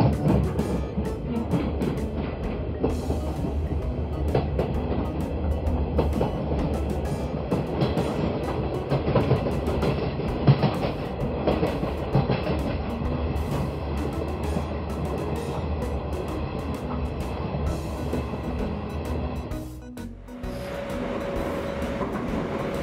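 Cartoon rack railway train with a special toothed cog wheel, a steady rolling mechanical rumble with rail clatter running continuously, briefly dipping near the end before resuming.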